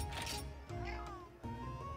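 A cat meows a few times inside the Monster Hunter 4 Ultimate video game, short tonal calls over game background sound, fairly quiet.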